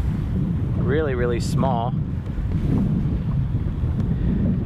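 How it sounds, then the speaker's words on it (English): Strong wind buffets the microphone out on the ice while fishing for panfish in New York, a loud, steady low rumble throughout, with someone speaking briefly over it. "That wind is super crazy too. It's really picked up."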